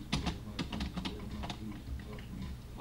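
Computer keyboard keys clack in quick irregular bursts, close and fairly crisp, with a faint voice underneath at times.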